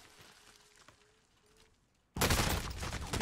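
Sudden loud gunfire erupts in a Call of Duty match after a quiet stretch of faint background, the shots continuing densely and close for the final second or so.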